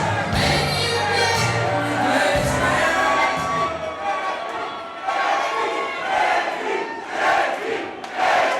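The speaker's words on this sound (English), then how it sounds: "let's listen to this capacity crowd here at Lenny Boy." A capacity crowd roars and cheers at an XWW wrestling event, a dense wall of voices with shouts rising and falling in waves throughout.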